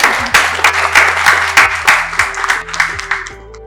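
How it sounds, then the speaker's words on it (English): An audience at a speaking event claps together loudly and steadily for several seconds, close and full-sounding, with harmonic tones held underneath the clapping. "you can clap for that as"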